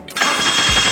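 A car engine is started up close with a sharp cranking burst that catches quickly and settles into a loud, steady running roar.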